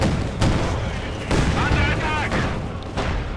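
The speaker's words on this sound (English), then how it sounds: "Another heavy mortar round." Repeated heavy mortar round blasts in Company of Heroes 2, dense booming impacts over continuous battle noise, with a commentator talking over the gunfire.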